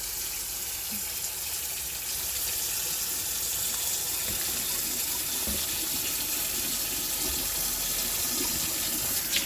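A tap runs steadily into a sink while lamb's neck meat is washed, a constant close rush of water with no talking.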